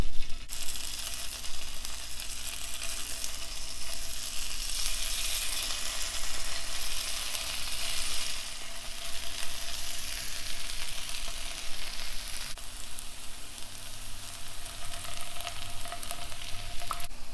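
Round-cut bitter gourd slices fry in hot oil in a pan, making a loud, dense, continuous sizzle that stays steady throughout with only slight shifts in intensity.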